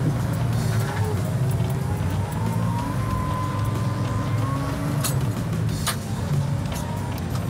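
An SW4 armored police vehicle drives through a sandy section, its engine giving a steady, loud low rumble that stays constant throughout with no pauses.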